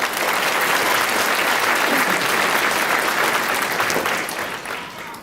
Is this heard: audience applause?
yes